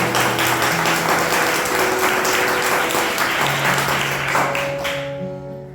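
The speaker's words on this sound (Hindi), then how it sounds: "थोड़ा ताली बजाएंगे प्रभु को।" A church congregation claps their hands together in sustained, dense applause that fills the room, with a faint steady musical tone beneath, then fades toward the end.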